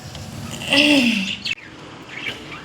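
Sparrows and parrots chirp on a home balcony: a bright, close, rising-and-falling call for about a second, then softer scattered chirps.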